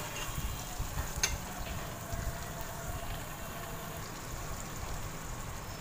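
A chopped tomato frying in a pan for whole masoor dal, giving a steady, moderate sizzle with a brief stirring clatter near the start, with no talk over it.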